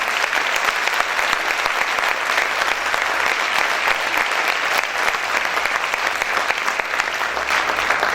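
A church congregation applauds loudly and steadily, a dense wash of clapping that holds at even volume from start to finish with a faint murmur of voices mixed in.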